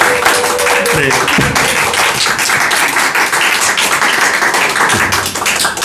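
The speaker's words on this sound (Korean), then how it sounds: "한 100명이 있다 생각나시게끔 우리 큰 박수로 우리 한번 환호하며 환영하겠습니다" A church congregation claps and cheers loudly to welcome the pastor at a Sunday worship service, dense continuous applause filling the clip with a brief spoken word near the start.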